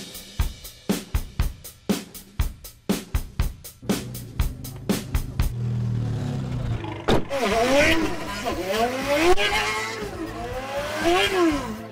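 Race cars at a driving bootcamp rev and accelerate along a track, loud engine whines sweeping up and down in the second half after a run of sharp rhythmic clicks and thumps, with no speech over it.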